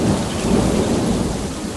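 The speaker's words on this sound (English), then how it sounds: "Now the sky opens up. That gentle rain is exactly what the soil needs" Steady rain pours down with a deep rolling rumble of thunder underneath, loud and continuous throughout with no voices.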